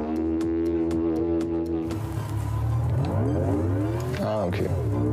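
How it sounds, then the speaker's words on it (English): Audi electric car's designed artificial driving sound: a steady synthetic hum with rising and falling tonal sweeps like revving, heard close and continuous with speech over it in places. "Audi has even created artificial noises, courtesy of these wildly German-looking sound designers."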